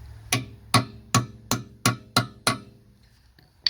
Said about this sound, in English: I'm going to take my little sledgehammer. I'm going to hammer it in a little bit.